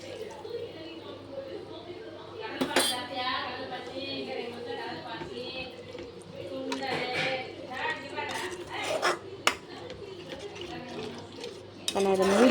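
A spoon scrapes and clinks against a pan while masala paste is mixed for vendakkai (okra) gravy, repeated close stirring sounds with a voice talking over them.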